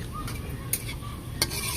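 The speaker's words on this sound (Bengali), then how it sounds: "তার সঙ্গে দেবো দুটো তেজপাতা, একটু নেড়ে দেবে।" Bay leaves and whole spices frying in hot oil, a soft continuous sizzle with two distinct metallic clinks of a spoon stirring the pan, close and unaccompanied by voices.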